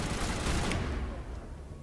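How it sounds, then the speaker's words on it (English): Turrets in Mass Effect fire a loud, sustained volley of rapid shots that dominates briefly, then eases slightly. "Oh, those are just turrets."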